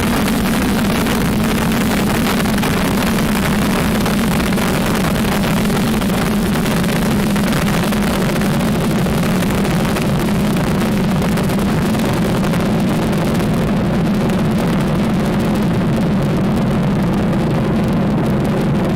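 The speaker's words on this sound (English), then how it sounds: "Vehicle pushing downrange. Stage 1 propulsion is nominal." Rocket first stage engines roar during the Ax-1 mission launch, a steady, loud, broadband rumble with constant crackling texture that holds unchanged for the whole stretch, with no voices.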